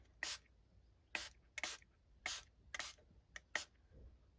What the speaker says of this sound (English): we're going to give it a little spritz